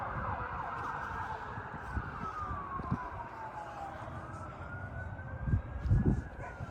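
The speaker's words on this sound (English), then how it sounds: "Yep, that's a fire truck." Fire truck sirens wail from a main road beyond a rural garden, a couple of rising and falling tones that sound faint and distant over low outdoor rumble and a few soft knocks close by.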